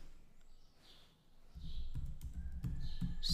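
Faint, scattered keystrokes on a computer keyboard while writing code in VS Code, soft clicks over a low background hum with no talking.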